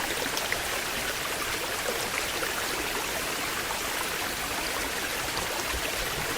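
A stream rushes steadily beneath a bridge near the Curug Seribu waterfall, a constant broadband wash of flowing water with no voices.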